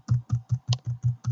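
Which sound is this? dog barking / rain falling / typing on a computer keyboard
typing on a computer keyboard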